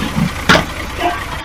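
A tractor engine in a farming video game runs in a steady mid-pitched drone, loud and continuous, with a brief brighter burst partway through and no voices.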